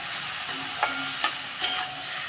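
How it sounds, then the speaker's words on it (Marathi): Tomatoes and onion sauté in a pan with turmeric and salt, giving a soft, steady sizzle. Three brief scraping stirs stand out over the frying. "आता हे छान आपण परतून घेऊया, टोमॅटो एकदम सॉफ्ट होईपर्यंत।"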